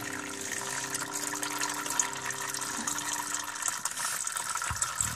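Liquid drains from an Iseki TM 3160 tractor, pouring and trickling steadily from a spout and splashing into a pool below, continuous at moderate volume.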